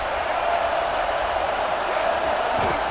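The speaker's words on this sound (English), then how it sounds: "This crowd trying to make life miserable for this offense." Steady stadium crowd roar in a College Football 26 game, Gators at FSU, a dense wash of cheering that holds at constant loudness for a few seconds with no clear talk on top.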